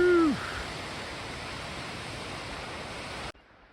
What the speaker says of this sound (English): Oh, there's our waterfall. It's just below the bridge.